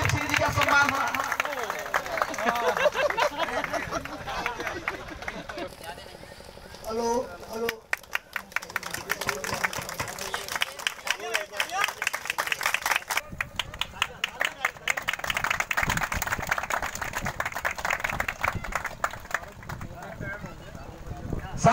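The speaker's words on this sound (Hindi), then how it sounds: "जोरदार ताली हो जाए, जोरदार ताली" Applause and cheering from a crowd at a Baba Saheb Ambedkar Jayanti ceremony in Saradih, Chandauli, with steady clapping swelling in bursts under someone speaking loudly over a microphone.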